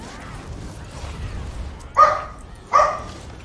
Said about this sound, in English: They're like miniature dachshunds, so they get worked up a lot.